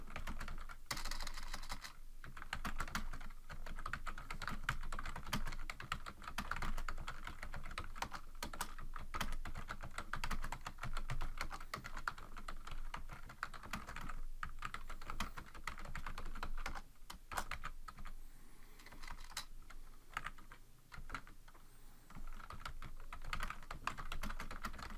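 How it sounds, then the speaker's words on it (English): Continuous close typing on a computer keyboard, a dense steady patter of key clicks running without pause for the whole stretch, with no speech. "just type in those things"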